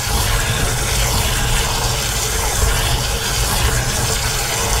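Water rushes steadily through a motorhome's waste water tank as it is flushed clean, a loud continuous gushing with no pauses and no voices.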